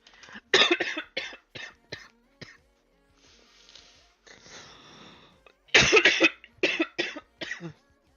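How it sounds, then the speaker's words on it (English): A prolonged fit of harsh coughing in quick bursts, with a wheezy breath in the middle before more coughs. "Sorry about the coughing fit."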